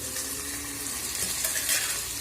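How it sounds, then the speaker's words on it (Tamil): Onion and tomato sauté in a pan for kollu rasam, giving a soft, steady sizzle with faint stirring scrapes, close and fairly quiet. "தக்காளியும் நல்லா வந்து வதங்கணும்"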